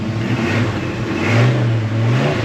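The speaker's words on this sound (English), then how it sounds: "Let me see if I can give it a couple revs without it" A classic Chevy car engine revs up a couple of times, a steady mid-pitched drone rising and falling, close by with no talking.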